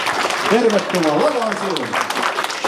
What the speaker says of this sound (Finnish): Hyvät naiset ja herrat, antaa aplodia kuulua.